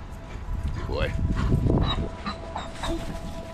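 Vocal sounds from a large, handsome dog outdoors on a walk, with whimpers and short yips rising over steady rustling and movement, while a person talks nearby.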